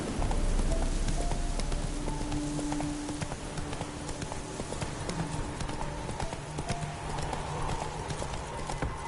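Hooves of the horse Roach clip-clop steadily in the Witcher 3 video game, a brisk even rhythm that runs throughout under a bed of game ambience, with a faint whinny at one point.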